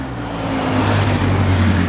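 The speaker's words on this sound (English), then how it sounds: "It's a quad bike. Sounds like GTR." A quad bike engine idles nearby in a steady, loud, even rumble with a low droning hum, with no other sounds standing out.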